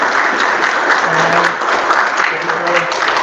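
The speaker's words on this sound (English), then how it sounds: "So if you give him a round of applause." A student rep forum audience claps for Mr. Albert Lucas, a sustained round of applause with faint voices murmuring underneath.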